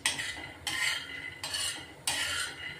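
Peanuts dry-roast in a pan over a low gas flame, a spatula sweeping them around in four distinct rasping scrapes, close by with no talking.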